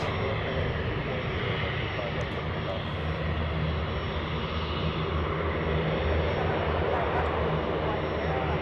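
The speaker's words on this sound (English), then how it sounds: "We got a couple of 737 takeoffs." Boeing 737 jet taking off at Anchorage Airport, a loud sustained engine roar filling the whole stretch, with a person talking over it.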